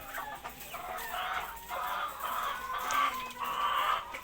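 Many village chickens of the KUB breed cluck and murmur together continuously in a poultry farm, a dense flock chatter at moderate volume with no talking.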